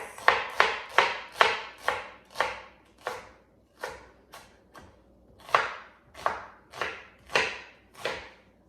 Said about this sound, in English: So I'll just chop this.